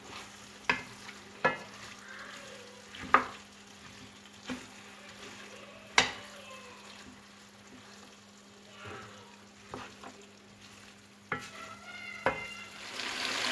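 Minced meat keema frying with spices in a pan, a low steady sizzle broken by repeated sharp scraping knocks of a spoon stirring, fairly quiet and close.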